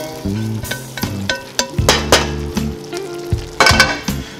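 Ground beef with bell pepper, onion and celery for homemade chili sizzles loudly in a pan, with repeated spoon scrapes and clinks as it is stirred, close and without talk.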